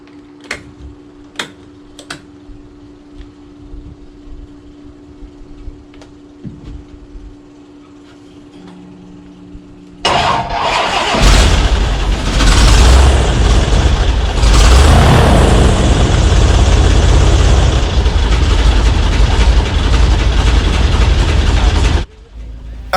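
An engine fitted with a newly built magneto harness and new plug leads sits quiet with a few ticks, then catches and roars into a loud, steady run close by for about twelve seconds before cutting off abruptly.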